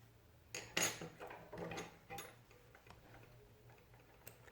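Scissors snip through crochet yarn, a few sharp close clicks and rustles with a brief cluster of cuts early on, then faint handling noises over a quiet background.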